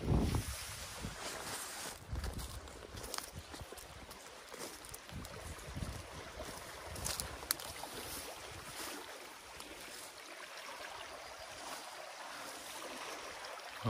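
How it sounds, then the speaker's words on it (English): A strong water current rushes through a gap where a beaver dam was removed, a broad, continuous roar of flowing water with wind buffeting the microphone, steady and fairly close without talk. "Oh, how the water is coming."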